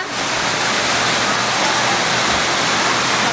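Heavy rain pouring down in a dense, loud, unbroken roar close at hand, steady for the whole stretch with no voices breaking through.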